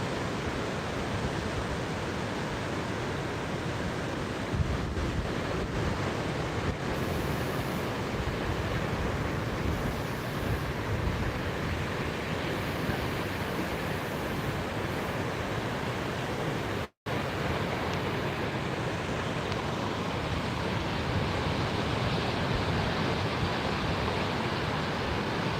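Strong wind roars over a stormy sea at a beach in Anapa, a steady dense wash of surf and wind buffeting the microphone, continuous and loud with one brief dropout.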